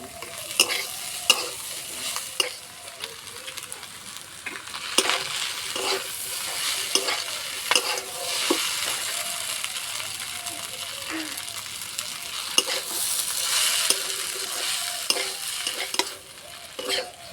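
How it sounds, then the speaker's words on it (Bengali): Maggi noodles are stirred with fried vegetables and fried egg in a pan, giving an ongoing sizzle with repeated scraping and clinking spatula strokes at an irregular pace, close up, while a voice speaks faintly in places. "ম্যাগির সঙ্গে সবজি খুব ভালো করে নেড়ে নিয়েছি"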